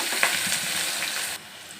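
Onion pieces fry in hot oil with bay leaves and cinnamon for a chicken curry, giving a loud close crackling sizzle with a brief stir early on that drops abruptly to a quieter hiss near the end.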